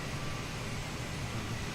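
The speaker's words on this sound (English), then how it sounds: "I hear a jet coming in the other side." A jet aircraft rolls in during a flight simulator session, a steady broadband roar that holds at even loudness throughout, with no speech over it.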